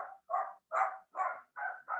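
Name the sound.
dog barking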